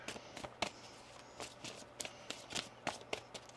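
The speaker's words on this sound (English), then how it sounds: "One more shuffle here." Tarot cards being shuffled by hand during a reading, heard as a series of short, crisp riffling bursts at an irregular rhythm, close and fairly quiet with no talking.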